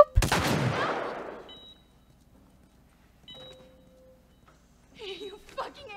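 A loud single gunshot from a favorite gun cracks at the start in The Last of Us Remastered and rings out into near silence, followed by a few faint mechanical clicks and then a voice speaking.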